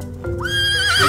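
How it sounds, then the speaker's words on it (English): Animated horse whinny from a children's read-aloud picture book, a rising, shrill neigh swelling over about a second with a faint clip-clop beneath, loud and close with no talking. "Blue horse, what do you see?"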